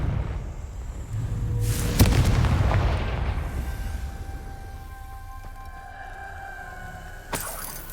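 A Confringo blasting spell explodes in Hogwarts Legacy, a loud booming blast with a rumbling tail that slowly fades, followed by a fainter sharp crack near the end.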